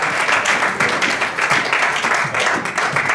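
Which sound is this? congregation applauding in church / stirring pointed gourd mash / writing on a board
congregation applauding in church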